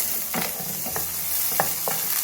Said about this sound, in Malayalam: 1 പച്ചമുളകും 1 ചെറിയ പീസ് ഇഞ്ചിയും 2 വെളുത്തുള്ളിയും നീളത്തിലരിഞ്ഞതും കൂടി ഇതിലേക്ക് ഇട്ടിട്ടൊന്ന് വഴറ്റി കൊടുക്കും